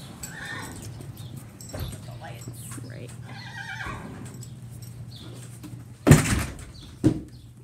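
Horses shift and stir in a barn at morning feeding time, with soft snorts and hoof movement under an ongoing conversation, then two sharp louder knocks like stall doors or buckets near the end.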